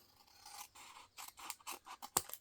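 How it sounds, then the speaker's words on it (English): Scissors snip along the edges of cardstock paper in a quick series of close, crisp cuts that grow sharper toward the end, with no talking. "Only have to trim the edges."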